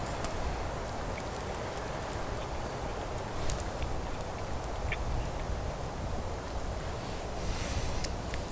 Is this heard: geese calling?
yes